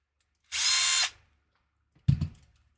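A loud half-second mechanical whirring clatter, then a short pause and a brief rattling, grinding burst from a small RC crawler drivetrain, its rear end dragging.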